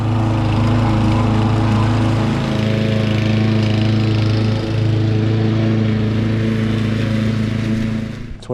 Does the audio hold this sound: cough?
no